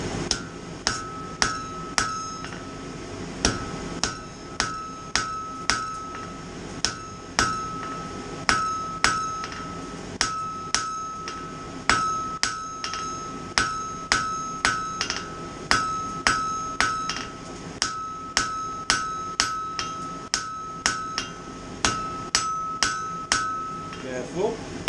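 A hammer forges a taper on the end of a steel key hook. Sharp, ringing metallic blows fall in a steady rhythm for the whole stretch, each strike clear and close with a bright clink.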